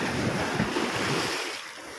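Loud, close roar of high-tide ocean waves washing in against an eroding shore, mixed with gusty wind buffeting the microphone, easing slightly toward the end.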